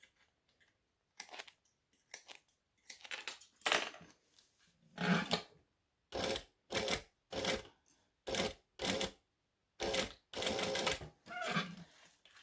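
A sewing machine back stitches to lock thread ends on a pouch, heard as about a dozen short, close stitching bursts separated by brief pauses, with no talking.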